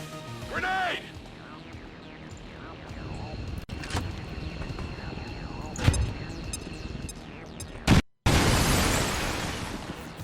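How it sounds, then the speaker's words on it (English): A grenade goes off in the video game XCOM 2: War of the Chosen, a sudden loud blast after a brief dropout, with a broad roar that carries on to the end, following scattered in-game clatter and pops. "Grenade!"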